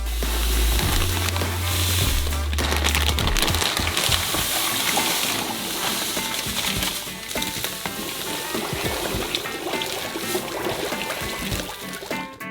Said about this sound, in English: And pour it into the melted butter.